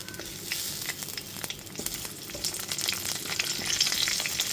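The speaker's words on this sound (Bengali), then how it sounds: "কাঁচা লঙ্কাটা দিয়েও একটু নাড়াচাড়া করে নিচ্ছি।" Slit green chillies and chopped garlic sizzle and fry in a little oil in a pan for pabda fish curry, a steady crackling hiss broken by light scrapes of a stirring spoon, fairly close and with no talk.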